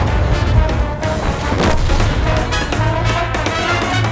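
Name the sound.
tank cannon fire in video game World of Tanks replay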